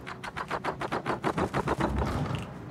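Bombs dropping on a ship in a naval battle video game, heard as a rapid, even run of about a dozen loud booming explosions that fades into a rumbling tail.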